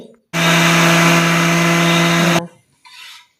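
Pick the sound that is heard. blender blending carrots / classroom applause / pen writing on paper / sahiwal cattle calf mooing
blender blending carrots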